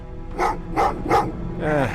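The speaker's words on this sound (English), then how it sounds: "Oh, what's with the dogs?" Dogs barking in the video game Terminator Resistance, four loud close barks in an uneven rhythm, the last one drawn out into a whining yelp, over a low game ambience.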